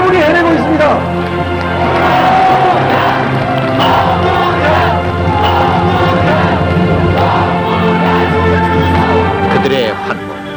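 A huge outdoor crowd at a Roh Moo-hyun campaign rally in Busan cheers and chants continuously, loud and close, with massed voices shouting and roaring throughout.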